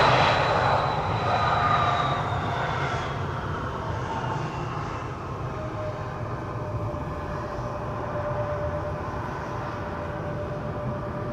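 Lufthansa CRJ regional jet taxiing in after arriving from Munich, a steady loud engine roar and whine held throughout with no talk.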